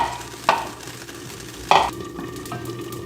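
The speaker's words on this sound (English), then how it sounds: "While they're cooking, I'm gonna saute some onions." Onions sauté in a pan for a lentil stew, a low sizzle underneath two sharp scraping stirs of a utensil against the pan, close and moderately loud.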